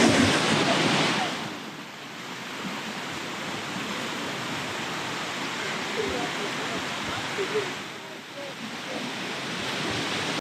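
Surf washing onto Benaulim Beach, a fishing beach in Goa, a broad, steady roar of breaking waves that swells near the start and again toward the end, with wind buffeting the microphone.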